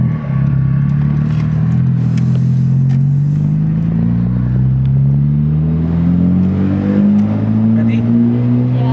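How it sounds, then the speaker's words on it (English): A Honda Civic Type-R turbo engine runs on a flashed tune, pulling up through the revs in a loud, rising drone from inside the car with a slight dip and climb, as people speak over it. "the turbo sounds different now"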